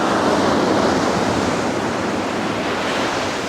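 Surf washes steadily over a beach where a critically endangered sea turtle has just nested, a dense, continuous roar of breaking waves with some wind, close and loud throughout.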